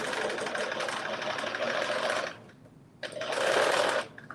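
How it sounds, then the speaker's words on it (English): A sewing machine stitches a 5/8 inch seam in two loud, close bursts of rapid whirring. A brief pause separates them and there is no talking. "Now I'm about to stitch these. And I'm doing again 5/8 inch seam allowance."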